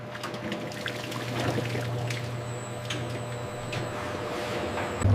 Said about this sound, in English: The cream is poured into industrial churns.